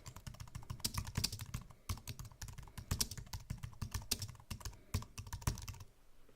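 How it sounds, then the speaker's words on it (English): Rapid keystrokes clatter on a computer keyboard in quick bursts with brief pauses, close and steady. "that's pretty good typing for me"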